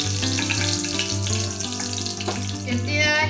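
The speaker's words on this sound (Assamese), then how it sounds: "এতিয়া এইখিনি তেলতে মই দি দিম 2 খিলা তেজপাত আৰু দিম 2টা শুকান জলকীয়া।" Bay leaves and dried chillies frying in hot oil give a steady, close sizzle over a constant background hum and tonal sounds, with a brighter crackle near the end.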